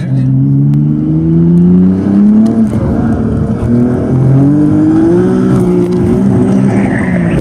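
A four-wheel-drive car engine revs hard and climbs in pitch as it accelerates, loud and close, with the tone rising and falling through the run.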